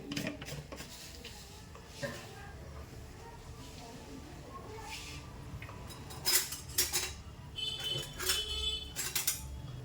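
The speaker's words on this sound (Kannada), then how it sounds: "ಈಗ ಅದು ಸಾಸಿವೆ ಚಟ್ಪಟ ಅಂತ ಇದೆ" Mustard seeds splutter in hot oil in a pan while chicken masala is being cooked. Sharp crackling pops burst in uneven clusters, growing busier toward the end, over a low background hiss and light kitchen clatter.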